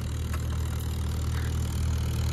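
A scooter engine idles with a steady low hum, close and even throughout, no talking over it.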